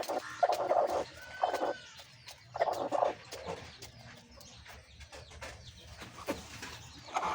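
A broody hen sitting on a clutch of Chinese duck eggs in a chicken coop, giving soft clucks and low murmuring calls in a few bursts, close by, with quieter rustling in between.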